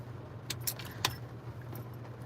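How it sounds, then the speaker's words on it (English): Car keys jangle in a few brief, light metallic jingles over a steady low hum, fairly quiet, with no talking. "I have both of my car keys."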